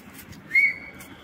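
A single person whistles one short, rising then steady tone meant to call friends, clear and fairly close over a faint background hum.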